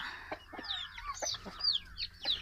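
Roosters scuffle and cluck outside near laying hens on a farm, with quick sharp squawks and clucks bursting in irregular flurries, close and fairly loud, with no talk.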